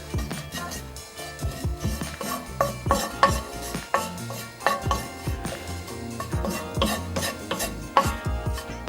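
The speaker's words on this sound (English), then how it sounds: "Now we just want to toast this, so just for a couple of minutes, just stir it around a bit." A utensil stirs shredded coconut toasting in a dry pan, making continuous scraping and clinking strokes against the metal in an uneven rhythm, close and moderately loud, with no voices.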